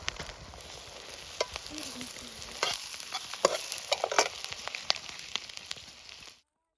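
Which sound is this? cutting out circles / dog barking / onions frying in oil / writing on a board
onions frying in oil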